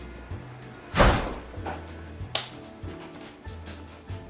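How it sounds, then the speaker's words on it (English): A door slams shut once with a sharp, fairly close thud, followed by fainter knocks and handling bumps in an indoor room during Christmas decorating. "the man's closed the door"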